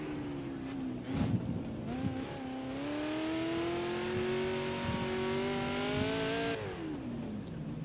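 Prototype race car on the Hockenheim track, revving with a sustained engine whine that climbs and falls as it slides, preceded by a few bumps and ending in a drop in pitch.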